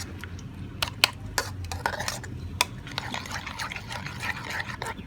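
An egg being whisked into a thin liquid batter for paratha in a bowl, giving light clinking and sloshing strokes at an irregular pace, close by and fairly quiet.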